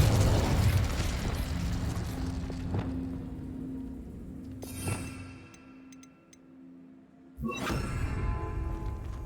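A Confringo blasting spell fires in the Hogwarts Legacy video game: a sharp burst and boom at about five seconds over steady game ambience. A second loud blast hits near the end.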